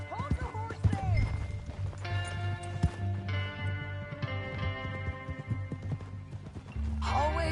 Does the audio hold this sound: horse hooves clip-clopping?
yes